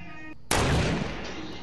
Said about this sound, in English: We're shooting rockets.